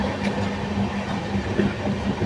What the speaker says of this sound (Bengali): চলো আমাদের ট্রেন চলেছে ভদ্রকের পথে